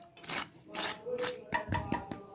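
Crispy fried chicken kachori being handled and broken in a kitchen, giving several close, sharp crackling crunches in quick irregular bursts, fairly quiet, with no talking.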